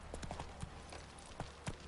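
Roach the horse's hooves strike ground in a few soft, scattered clops during a ride in The Witcher 3: Wild Hunt, quiet and partly buried in game ambience.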